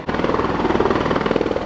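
A helicopter flying overhead, its rapid, rhythmic blade chop thrumming steadily and fairly loud throughout, with no one talking.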